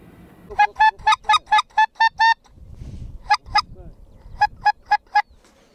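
Wild geese call during a spring goose hunt: a run of loud, rapid honks, then a pair of calls and a final burst of four. Quiet rustling and low background noise fill the gaps, with no talk.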